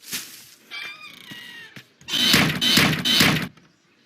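A door in a cartoon clip thuds shut with a dull knock, followed by a burst of loud noisy commotion and shouting voices up close.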